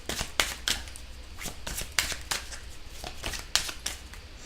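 Deck of cards being shuffled and cut for a card reading, a series of quick, crisp riffling and slapping bursts in an irregular rhythm, close and clear with no talking.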